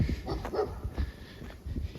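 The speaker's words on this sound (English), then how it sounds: "He was barking a lot" A dog gives a few short, close barks and whimpers in quick succession, loud and irregular.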